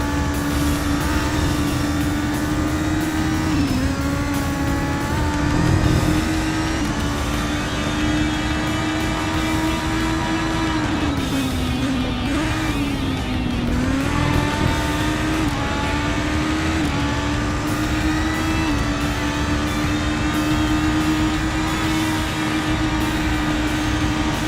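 Race car engine in Race Driver GRID holding a steady loud drone for the whole stretch, pitch sliding up and down through gear changes and corners, with no talk over it.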